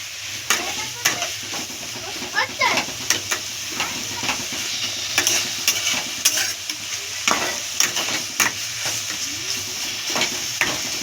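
Cabbage fries in hot oil for homemade chow mein, a loud steady sizzle punctuated by frequent rhythmic stirring scrapes and clicks of a utensil against the pan, close up and without speech.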